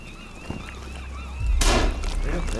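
A single gunshot in the Sons of the Forest video game, aimed at a bird, bursts out mid-clip with a loud, sharp crack and a short decay over soft outdoor ambience and a faint earlier thump.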